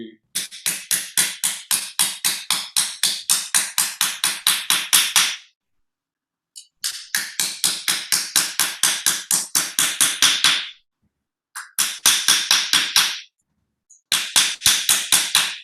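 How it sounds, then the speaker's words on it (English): Metal sheet being hammered flat for fold forming, struck in fast, sharp, evenly spaced blows that come in long bursts separated by short pauses, loud and close with no talk. "I'm just going to hammer that flat"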